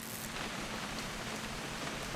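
Steady rain in the video game What Remains of Edith Finch, a dense even hiss of falling drops that continues unbroken and fairly loud throughout.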